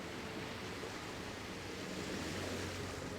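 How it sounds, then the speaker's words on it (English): Ocean waves of the Lotano Sea from Final Fantasy XIV, a steady broad wash of surf and wind, faint and unbroken with no distinct individual crashes. "amidst the roiling waves of the Lotano Sea"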